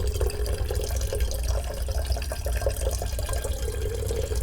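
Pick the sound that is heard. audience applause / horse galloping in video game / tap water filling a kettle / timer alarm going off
tap water filling a kettle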